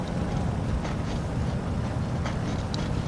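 Steady, droning engine noise of a Waco YMF5 biplane in Microsoft Flight Simulator 2020, a continuous low rumble with no clear change across the short stretch and no talk over it.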